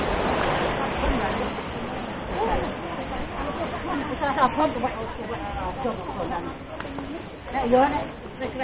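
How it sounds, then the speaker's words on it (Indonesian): Steady rushing water from a mountain waterfall at Srambang Park in Ngawi, Indonesia, fills the scene, with a person talking over it throughout. "ini sangat sejuk ini air dari air terjun ya"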